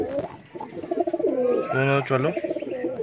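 Madras pigeons cooing in a loft, a steady run of soft low coos under someone speaking briefly.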